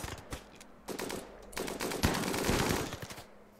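Automatic gunfire from a RimWorld colony battle, with rapid bursts in several clusters that build into a dense, sustained volley near the end. No voices are heard.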